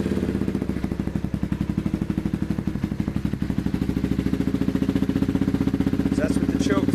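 A 2015 Yamaha TTR 230 motorcycle, uncorked and regeared, idling with the choke fully out: a steady rapid single-cylinder putter, close and loud throughout, with a faint voice near the end.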